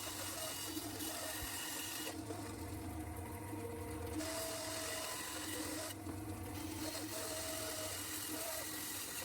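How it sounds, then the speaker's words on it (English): A bandsaw cuts wooden legs for a child's chair, a steady mechanical hum and buzz running throughout, with two brief changes in tone as the blade works the wood. "I then went over to the bandsaw and messed it up completely by cutting nowhere near the line"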